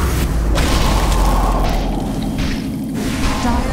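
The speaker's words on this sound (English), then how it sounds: "Dire's middle tower has fallen." A Dota 2 tower collapses in a heavy, sustained rumbling boom with crumbling debris, loud and continuous for several seconds amid game battle noise.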